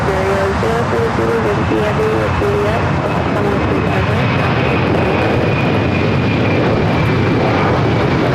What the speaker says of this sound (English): That is Delta Airlines 939 taking off to JFK